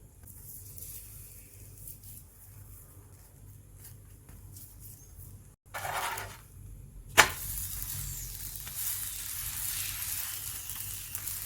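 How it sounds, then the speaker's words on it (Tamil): Ragi chapathi, a finger-millet flatbread with potato in the dough, frying in oil on a hot tawa: a soft hiss swelling into louder steady sizzling after a sharp clack near the middle, with no talking. "2 பக்கமும் திருப்பி போட்டதுக்கப்புறமா நம்ம கொஞ்சமாக சுற்றி எண்ணெய் ஊற்றி சுட்டுக்கலாம்"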